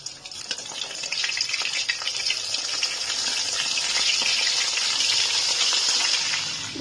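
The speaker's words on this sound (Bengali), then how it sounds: "এইভাবে আমি সবকটা মাছকে ভেজে তুলে নিচ্ছি।" Katla fish frying in hot oil for a fish curry, a loud, continuous crackling sizzle close up, steady from start to finish with no talking.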